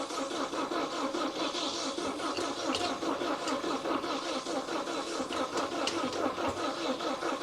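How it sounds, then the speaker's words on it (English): A propane-fuelled forklift engine cranks over steadily without catching, a dense, continuous mechanical churning that holds at an even level throughout. "we gotta get this forklift up and running"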